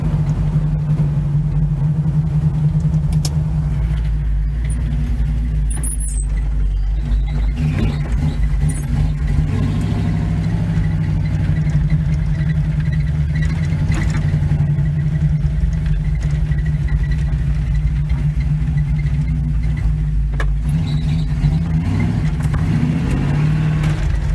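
A 1971 Chevy C10 pickup engine runs at a steady idle, close and loud, with a deep, constant rumble that holds for the full stretch without revving.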